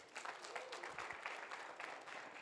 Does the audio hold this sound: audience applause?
yes